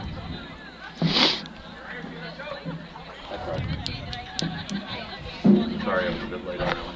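Crowd chatter in the stands at a high school district baseball game between McNeil and Westwood, a steady outdoor murmur of many voices with a couple of brief louder bursts near the start and middle.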